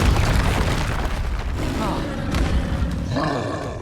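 Confringo blasting spell explosions in Hogwarts Legacy gameplay, a loud continuous barrage of booming, roaring bursts layered over busy combat noise with no pause throughout.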